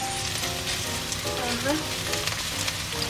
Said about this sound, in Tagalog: To start with, we're going to fry the onions.